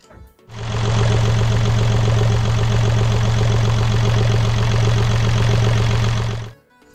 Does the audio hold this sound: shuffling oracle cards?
no